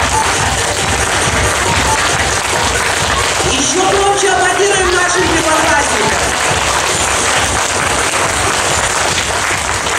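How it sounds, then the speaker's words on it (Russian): Loud, steady applause from a school audience at a first-grade initiation ceremony, filling the whole stretch, with a voice or music briefly rising through the middle. "Еще громче аплодируем наших первоклассников."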